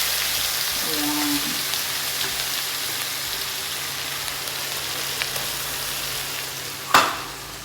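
Gravy mixture with chili powder and asafoetida being stirred in a hot pan, giving a steady soft sizzle and scraping hiss throughout, with a sharper clatter near the end.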